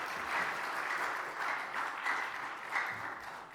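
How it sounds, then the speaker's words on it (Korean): A church congregation applauds to welcome a missionary at a Friday service, a soft, even wash of clapping that swells and fades a little, heard from some distance. "우리 박수로 환영하도록 하겠습니다."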